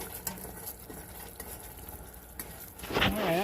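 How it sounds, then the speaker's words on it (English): Caramel popcorn with salted peanuts stirred in a pot, soft scraping and crackly popping bubbles, then a brief louder whining scrape near the end. "stir up some more"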